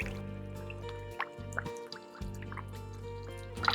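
An air tube in an Apistogramma aquarium moves water with soft dripping and trickling over a steady low hum, close and fairly quiet.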